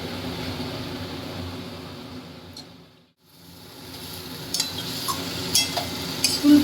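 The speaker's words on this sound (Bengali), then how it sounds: "এবার আমি ফুলকপিগুলো ছেড়ে দিচ্ছি" Fried cauliflower tipped into a hot pan of spiced masala for an egg and cauliflower curry, sizzling steadily, then a brief lull before stirring with a utensil brings light scraping and clinks over the ongoing fry.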